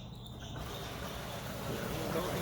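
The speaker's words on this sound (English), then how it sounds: "I've got another 120 inch by 12 inch wide test cut that I'm going to send." A Saga CNC large-format machine runs a 120 by 12 inch test cut, giving a steady, close mechanical whir and hiss that swells slightly toward the end, with no voices.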